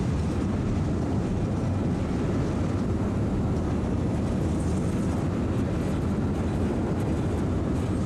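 Roller coaster train in the video game Planet Coaster rumbles along the track in a continuous loud, steady roar with no pauses or talk.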